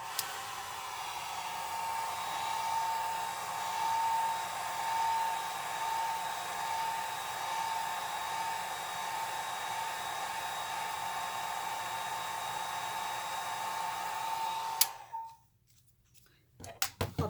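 A hair dryer drying alcohol ink and Posca pen paint on a flower painting blows as a steady, close whoosh for about fifteen seconds, then shuts off and leaves a few faint clicks.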